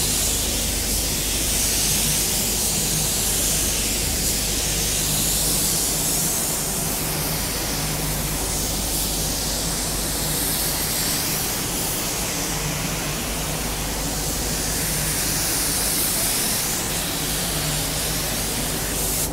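Steady, loud spray gun hiss of clear base coat, a pigment-free base coat used for blending, being applied to car paint, continuous broadband spray for the whole stretch with no talking.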